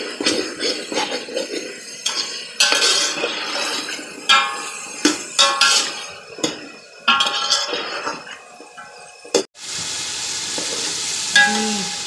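Potatoes and peas frying and being stirred in a pan, with scraping clatter and bursts of sizzling, then a steady hiss near the end.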